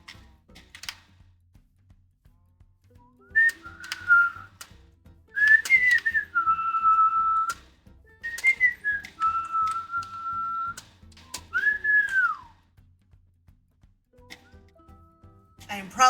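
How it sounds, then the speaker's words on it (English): A person whistles a tune in bursts, with sustained and gliding notes, over quiet game music and soft clicking during Minecraft play. "I probably shouldn't be whistling along"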